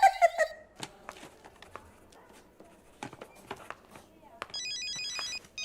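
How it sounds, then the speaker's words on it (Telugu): A mobile phone rings in a hospital ward, first as a short electronic tone, then after scattered clatter and footsteps as a second warbling ringtone near the end, with quiet movement around it. "ఎవరది వార్డులో ఫోన్ పెట్టుకుంది?"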